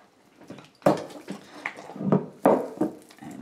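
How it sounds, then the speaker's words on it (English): Water is poured in short splashy bursts into a stiff cornstarch mixture, with three or four close liquid pours and drips separated by brief pauses. "so add a little bit of water"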